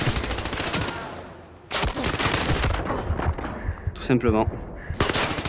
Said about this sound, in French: Attends, ça me tire derrière, là.